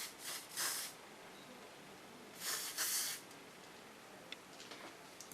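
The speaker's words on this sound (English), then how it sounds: "Now first lay on a little bit hairspray." Hairspray hisses from a can onto styled hair in a salon, several short soft bursts of spray, close and fairly quiet against faint room noise.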